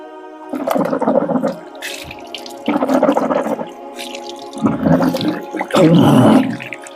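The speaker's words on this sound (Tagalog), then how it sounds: "kumuha ng tatlong beses ng tubig" Water is poured into cupped hands during Islamic wudu ablution, heard as several loud, close splashing gushes separated by short pauses.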